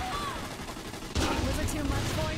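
Machine gun fire in Saints Row: The Third starts midway as a loud, continuous rattling burst from a tank-mounted gun, following a stretch of game noise, with voices talking over it.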